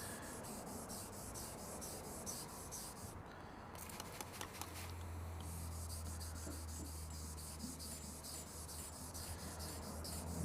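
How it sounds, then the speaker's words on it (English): Wet sandpaper rubbing over deep scratches in car paint: a faint, steady rasping scrub with repeated strokes, quiet and close, with no talk over it. "Take a little bit of wet sandpaper. You give it a little sand."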